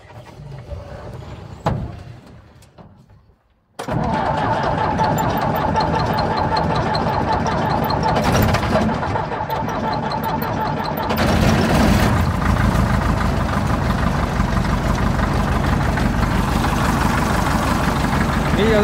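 A Csepel 344 truck engine that had sat idle for two years cranks and catches after a brief pause, then runs on with a loud, rough, steady rumble that swells once more as it revs.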